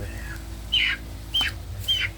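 A few short squawks and clucks from Super Brown Red chickens, three distinct calls spaced about half a second apart over a low steady hum.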